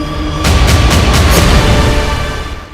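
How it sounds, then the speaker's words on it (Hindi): Heavy booms from cannon and tank fire in an Israel–Lebanon war zone, a series of broad, loud blasts arriving about every quarter second over a dense rumbling background, with no talk. "पीछे आप लगातार देख सकते हैं तोप और टैंक के धमाके की आवाज आ रही है"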